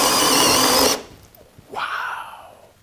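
A Makita hammer drill spins up at its second speed setting, a loud steady whine for about a second before cutting off, then a brief quieter burst of motor noise follows.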